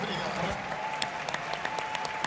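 An audience at a CPAC 2021 event applauds with steady, dense clapping that carries on throughout, mixed with scattered sharper claps.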